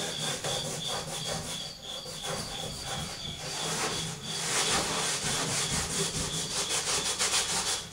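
A wood cabinet surface is scrubbed with an old rag soaked in lacquer thinner to lift stripped paint residue, a close, steady back-and-forth rubbing rhythm that continues throughout without talking.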